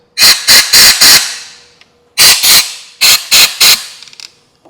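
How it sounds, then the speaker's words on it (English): Compressed air blasts out the bolt threads of a Kia/Hyundai V6 engine block during head installation: eight short, loud hissing bursts in three groups, close and alone, with brief pauses between groups. "I'm just going to give these threads just a final little blowout"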